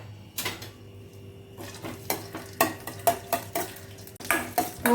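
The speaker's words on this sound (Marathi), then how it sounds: "थोडेसे असे तुपामध्ये हे परतून घ्यायचे आहेत आपल्याला।" Chopped cashew and almond pieces frying in ghee, stirred with a metal spoon that clinks and scrapes against the pan in quick repeated strokes over a soft sizzle.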